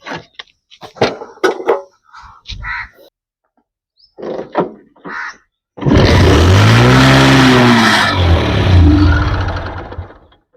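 A motorcycle engine starting after a clutch adjustment: several short clanks and kick attempts, then the engine catches and runs loudly and steadily for the last few seconds.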